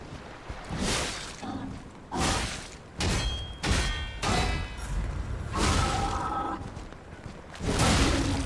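Explosions and combat impacts in Lies of P: a run of loud, booming thuds and whooshing bursts, several in quick succession with brief ringing tails, close and dense.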